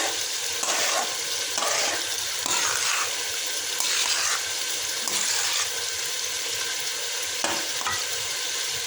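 Spinach stirred and frying in hot oil in a pan while cooking palak chicken, a steady close sizzle broken by repeated scraping stirs, with no talking.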